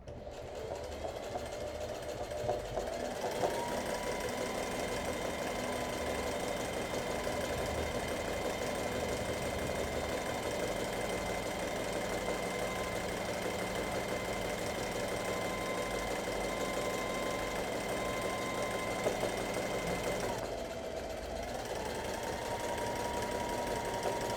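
A sewing machine runs steadily for free-motion zigzag embroidery of an Art Nouveau flower, its motor whirring in a continuous even drone that pauses briefly near the end before resuming.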